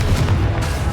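A Confringo fire spell blast in the video game Hogwarts Legacy, a loud, dense low boom filling a short burst with rumbling weight throughout.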